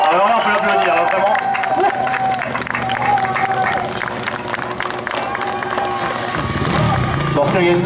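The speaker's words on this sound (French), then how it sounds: "Alors là, on peut l'applaudir, hein, vraiment" Crowd at an outdoor stunt show in Quily applauds and cheers motorcycle stunt rider Ricardo Domingos, with sustained clapping and babble, a loud engine or rumble swelling near the end.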